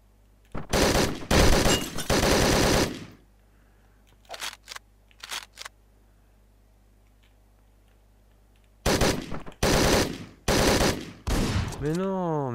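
Shotgun blasts in the top-down shooter Hotline Miami 2: Wrong Number, coming in clusters of loud, sharp bursts with two short shots between them and a long silent gap in the middle.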